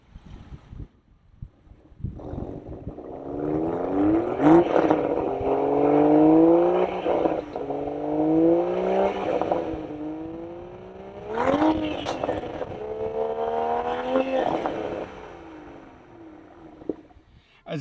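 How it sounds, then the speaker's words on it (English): A Toyota Supra A91 Edition with a BMW engine and Stradman FI exhaust revving outdoors in wind, several rising and falling throttle blips with sharp pops between them, loud and close, no talking. "Let's go ahead and let's cut to a quick little revving sound clip of it."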